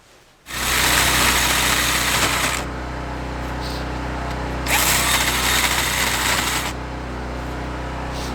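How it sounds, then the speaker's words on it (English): A cordless drill enlarges a hole on a snowy building job, whirring loudly in two long steady bursts with a quieter lower running tone between them and no speech. "This needs to be drilled out a little bit bigger."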